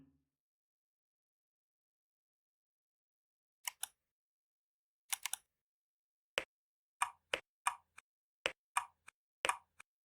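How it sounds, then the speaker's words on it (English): Keystroke sound effects from on-screen keystroke display software, sharp isolated clicks for key presses and releases, sparse at first and then coming in quicker pairs against silence. "Enable, disable key sound."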